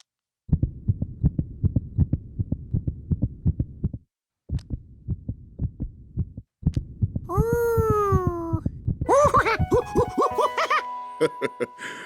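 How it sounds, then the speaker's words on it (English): A cartoon heartbeat heard through a stethoscope thumps in a steady, quick rhythm with two brief gaps, then gives way to swooping, warbling cartoon sound effects. "That's the sound of my heart."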